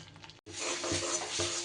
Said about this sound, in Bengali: চামচের মতো ফ্যাটানো টক দই দিয়ে খুব ভালো করে আবারও মশলা কিন্তু কষিয়ে নিতে হবে